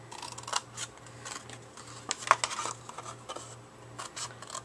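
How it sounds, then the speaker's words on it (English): Scissors snipping scored paper along the score lines while a treat box is made: a few crisp, close, quiet cuts at uneven intervals over a low steady hum. "I'm going to cut up along the score lines"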